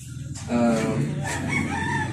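A backyard hen of fighting-cock build crows and clucks close by, one loud drawn-out call that rises and then trails off, with a faint voice in the background.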